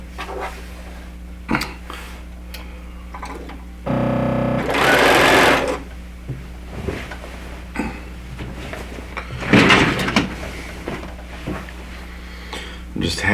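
An electric sewing machine stitches quilt pieces in bursts, a loud whirring run in the middle and a shorter one later, with a steady hum and occasional clicks and thumps in between while someone talks nearby.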